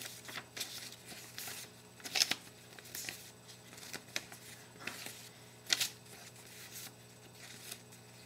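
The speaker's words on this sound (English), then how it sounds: "now I'm gonna shuffle them" A small deck of animal-themed game cards being shuffled on a table, quiet papery riffles and flicks that come in a few short bursts with soft pauses between them, no voices.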